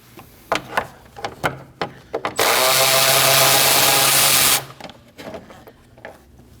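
A power tool with a 10mm socket spins a bolt out of a 2011-2016 Kia Optima 2.4L during AC condenser work. A steady whir lasts about two seconds, with clicks and knocks of handling before and after.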